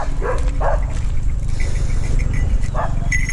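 Street dogs in Thailand bark a few times in short outdoor bursts, loud against steady background noise.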